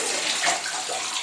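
Water running steadily in a large bathroom, with a continuous hissing splash from a tap filling a tub, close and fairly loud.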